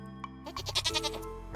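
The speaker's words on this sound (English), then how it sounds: "Goat number 2. Just name it Goat number 2" A goat in the farming video game Stardew Valley gives a single wavering bleat, clear and close, preceded by a brief game chime.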